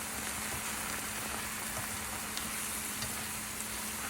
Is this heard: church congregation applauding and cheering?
no